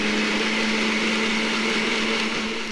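A mixer grinder whirs steadily as it grinds garlic, ginger and three tablespoons of yogurt, a loud continuous motor drone with a strong steady hum running unbroken throughout.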